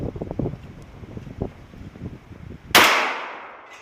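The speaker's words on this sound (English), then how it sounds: "let's shoot 3/8 of an inch thick steel and just see what that does" A 10mm rifle round strikes a 3/8-inch-thick steel flip target outdoors, one sharp loud impact with a ringing, decaying tail after a stretch of wind buffeting.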